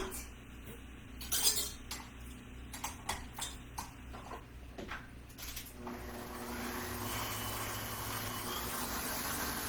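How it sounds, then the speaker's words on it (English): Stand mixer fitted with a whisk beating cream puff batter, a steady motor whir with rattling clinks of the whisk against the bowl, close and continuous, growing denser and louder toward the end. "I'm going to put my whisk on my mixer. And I'm going to let this just beat."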